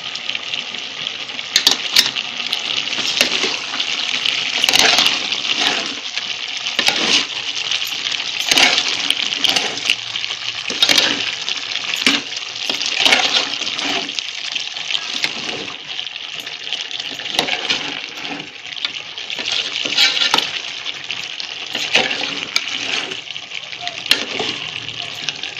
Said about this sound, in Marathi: आता हलवून घेऊया आपण